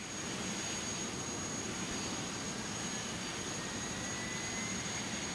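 A steady, even jet engine roar fills the whole span, as an airliner engine starts in a flight simulator home cockpit, with a constant high whine over broadband rushing noise and no talk.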